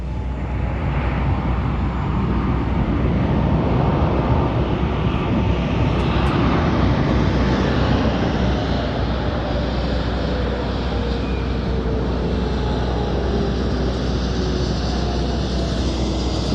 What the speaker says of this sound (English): our Binter aircraft is just starting to backtrack takeoff